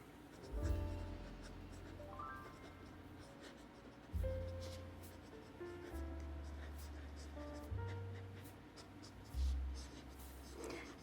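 A Sailor fountain pen with a 14K extra fine gold nib scratching across paper in short strokes and pauses, soft and close, under a low background hum.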